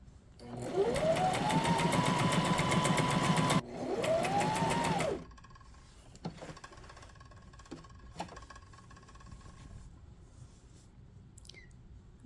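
A Brother SM2700 sewing machine stitches a small napkin in two steady motor runs, rising as it speeds up and dropping off sharply, followed by quiet clicks and handling noises.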